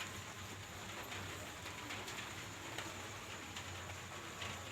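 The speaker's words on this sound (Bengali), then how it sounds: "বৃষ্টি ফোঁটা ফোঁটা দেখো পড়ছে।" Evening rain falls in a village, a faint, steady hiss of drops that stays even and continuous with no voices over it.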